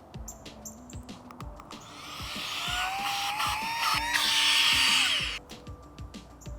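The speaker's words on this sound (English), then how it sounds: "when you want to deflate it, you just pop it on the other side" A Flextail Zero mini pump whirs into a high electric whine as it deflates an air mattress, rising and wavering in pitch for a few seconds before cutting off, with light handling clicks before and after.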